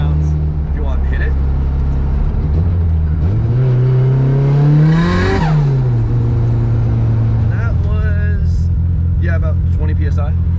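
Nissan 180SX turbo engine pulling hard in fourth gear at around 20 psi of boost, its loud drone rising steadily in pitch and then easing off, with people talking over it inside the car.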